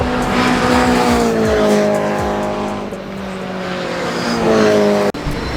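A Toyota GR86 Cup race car roars past on a racetrack, its loud engine note rising and falling as it passes close by, with the pitch shifting through gear changes.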